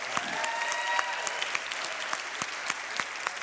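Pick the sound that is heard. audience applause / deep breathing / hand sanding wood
audience applause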